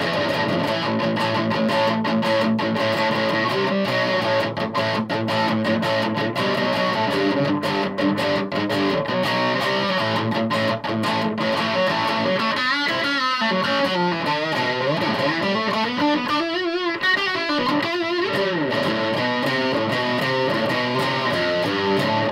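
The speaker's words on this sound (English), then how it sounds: "This is as distorted as it goes." Electric guitar played through a Washburn SX3 stack-in-a-box amp with the distortion maxed, sustained fuzzy chords ringing out, then a stretch of bending, wavering notes, loud and alone.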